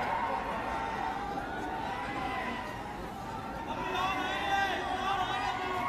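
A large crowd gathers at a political rally in Gurdaspur, a steady murmur of many voices and shuffling, with someone speaking over the hubbub.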